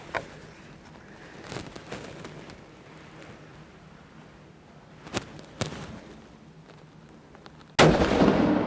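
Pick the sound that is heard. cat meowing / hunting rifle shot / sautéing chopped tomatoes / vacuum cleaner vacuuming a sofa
hunting rifle shot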